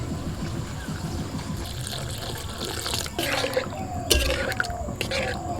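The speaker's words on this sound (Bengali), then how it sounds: "পরিমাণ মতন জল দিয়ে দিচ্ছি।" Water poured from a container into a cooking pot at home, a steady trickling splash that builds and thickens near the end, close by, with faint voices in the background.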